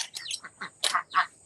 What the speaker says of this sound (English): one of the chickens got in there